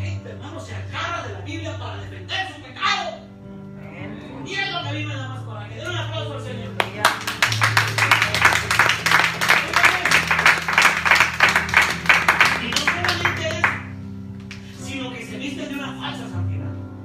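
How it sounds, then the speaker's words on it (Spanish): A church congregation breaks into a burst of applause during a Spanish-language sermon, many hands clapping densely for several seconds, with the preacher's voice heard before and after the clapping. "Den un aplauso"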